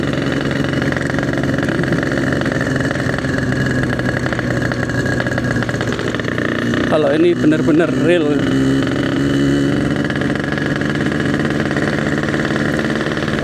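A Yamaha RX King two-stroke motorcycle with a standard-spec engine runs steadily close by with a buzzing, even drone, while someone speaks over it partway through.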